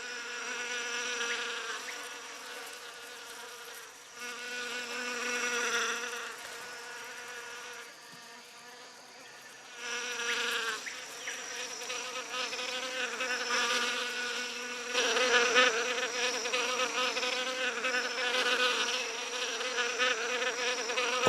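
Wasps fanning their wings to ventilate the nest in French Guiana, a steady close insect buzz that swells and dips in waves, with no talk.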